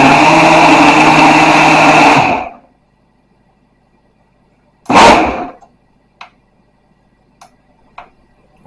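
A Healnitor 1000W countertop mixer blender roars loudly for about two and a half seconds and then cuts out, followed by one short whirring burst and a few faint clicks in near silence.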